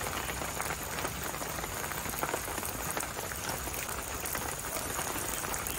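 Egg poured into a hot appam pan sizzles with a steady, dense hiss that stays loud and even throughout, with no talk over it.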